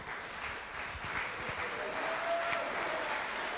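A high school symphonic band concert audience gives sustained, even applause that fills the hall at a moderate distance, with faint voices mixed in.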